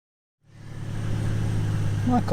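Big-turbo Mazda MX5 with a straight-piped exhaust starts up after a short silence, settling into a loud, steady, rumbling idle close by, with a brief higher tone near the end.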